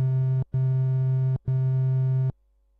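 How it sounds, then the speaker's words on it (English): A synthesizer oscillator sounds a triangle wave as a steady, mellow tone in three sustained bursts separated by short gaps, clean and alone with no voices. "if we listen to the triangle wave, there are only a few odd harmonics in there"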